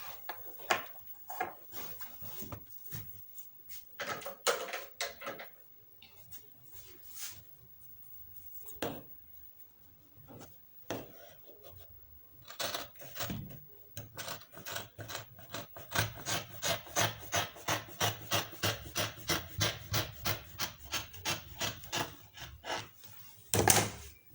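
Scissors trim fabric while a two-pleat bubu dress with sleeves is being sewn. Sparse snips and rustles come first, then a long, regular run of close, rhythmic cutting strokes.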